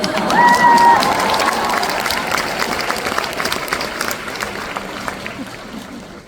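A crowd applauds at a nutrition and wellness business seminar, steady clapping throughout with a brief tonal squeal near the start, gradually easing in level.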